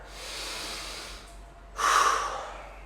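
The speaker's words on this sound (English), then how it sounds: "Let's take a big breath there." A big breath taken during a mobility workout, heard as a drawn-out inhale followed by a louder, close, rushing exhale, alone without speech.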